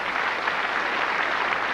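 A large audience at the 1974 Eurovision Song Contest in Luxembourg claps in a steady, continuous wash of applause, heard from a distance without any voices.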